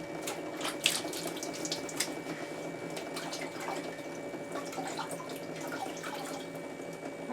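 Tap water runs steadily into a sink while a frog ornament is rinsed under it, a continuous close splashing stream with small drips and clinks of handling.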